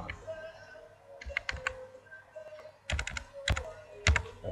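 Computer keyboard typing heard close up as scattered bursts of crisp key clicks with short pauses between them, fairly quiet and with no talking.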